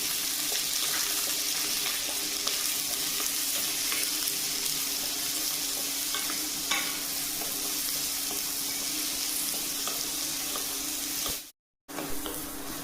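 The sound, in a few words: sautéing chopped shallots, ginger, green chilli and garlic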